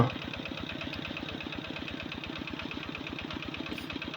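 A small engine drives a water pump pulling water from a pond to catch fish. It thumps in a steady, rapid idle, moderately close and constant throughout, with no voices.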